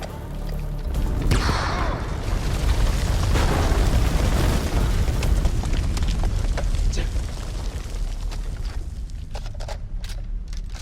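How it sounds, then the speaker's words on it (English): A grenade explosion in the video game House of Ashes, a loud heavy boom followed by a long rumbling roar of debris and fire that slowly fades over about ten seconds. "Grenade!"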